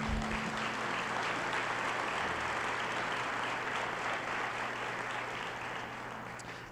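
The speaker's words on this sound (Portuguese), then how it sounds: "Você pode aplaudir o Senhor Jesus?" Dense, sustained applause from a church congregation fills the space, steady and broad throughout and tapering slightly at the end.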